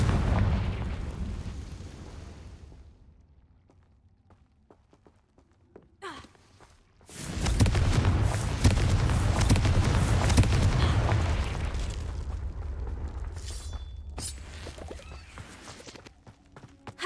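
Confringo spell explosion in Hogwarts Legacy: after a quiet stretch with a few soft footfalls, a loud burst erupts and rumbles on for several seconds before gradually settling, with a later crackling flare.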